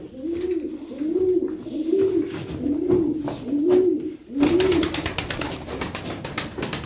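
Tumbler pigeons coo in a steady series of rounded, repeated calls for about four seconds, close and clear, before a burst of broadband rustling noise takes over.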